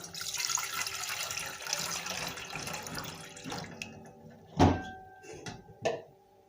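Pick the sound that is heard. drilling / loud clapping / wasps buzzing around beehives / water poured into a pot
water poured into a pot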